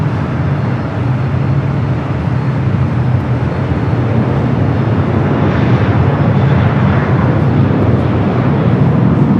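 A jet airliner takes off from the south side at Los Angeles airport, a loud continuous broadband roar of engines that holds steady throughout, dense rumbling low end with hissing wash above and no voices.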